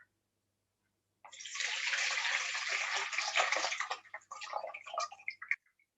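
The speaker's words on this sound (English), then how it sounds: "I'm going to take the water off the top." Water is poured or drained off the top of a set jelly, a close, faint splashing and trickling that starts abruptly, runs steadily for a few seconds, then breaks into uneven drips and stops.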